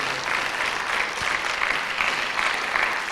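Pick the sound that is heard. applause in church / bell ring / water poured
applause in church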